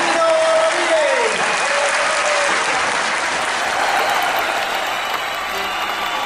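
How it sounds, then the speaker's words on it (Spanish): Steady, dense audience applause fills a theatre-style variety show, loud and continuous throughout with a few faint voices and whistles mixed in. "¡Un aplauso!"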